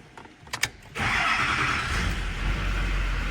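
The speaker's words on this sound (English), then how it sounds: "We're gonna come in here, turn the truck on." A Chevrolet Duramax truck engine cranks briefly, then catches and settles into a loud, steady idle close by.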